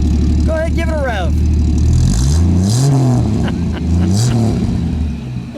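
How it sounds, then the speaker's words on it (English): A 1965 AMC Rambler American 220 station wagon engine with a Carter 2-barrel carburetor and single exhaust, revved up and down several times, loud and close, with someone talking over it. "Go ahead, give it a rev."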